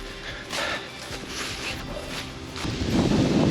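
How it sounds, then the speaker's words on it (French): Wind buffeting the microphone during a trail run, a rough, uneven rush that swells and fades with scuffing footstep noise underneath, growing louder toward the end. "Il y a un peu de vent."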